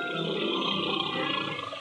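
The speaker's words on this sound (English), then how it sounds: "He talked to the lion" A lion roars in a low, sustained growl, loud and close, one continuous rumbling call with no speech over it.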